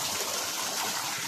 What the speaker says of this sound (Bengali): এই যে পানিগুলো যাইতেছে।